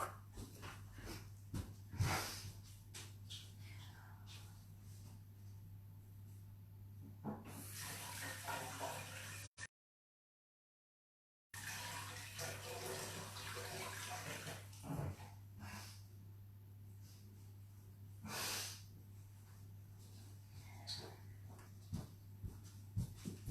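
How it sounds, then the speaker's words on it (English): Hands being washed under a running kitchen tap while making a traditional apple crumble: a steady rush of water splashing into the sink, broken by a short silent gap midway, with no talk. "and then I recommend go and washing your hands."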